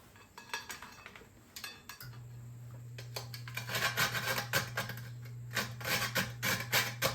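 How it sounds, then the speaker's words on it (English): Fresh whole nutmeg rubbed across a hand grater, making a series of close, raspy scraping strokes that speed into a steady rhythm, with a low electrical hum running underneath for most of it. "This is what I'm going to use this side to grate my nutmeg."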